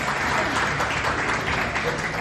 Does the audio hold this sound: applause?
yes